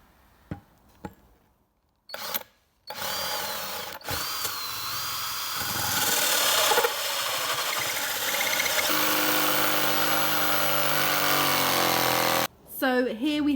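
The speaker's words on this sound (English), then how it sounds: "use the same hole saw as I did the others just to get rid of most of the mass and then just go around it with a jigsaw" A hole saw and then a jigsaw cut a circle into a wooden floor panel inside a Sprinter camper van. The sound opens with a few knocks and short bursts, then becomes a long, loud, sustained cut. Nearby speech is also heard.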